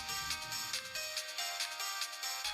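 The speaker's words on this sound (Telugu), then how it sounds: "దేవా సార్ ఫోన్ చేస్తున్నారు, మాట్లాడమ్మా." A mobile phone rings with an incoming call in a Telugu TV serial scene, its melodic ringtone loud and close, repeating in a steady pulsing pattern with no talk over it.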